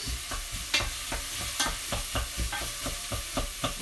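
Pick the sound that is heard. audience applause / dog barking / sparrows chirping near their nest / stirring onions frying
stirring onions frying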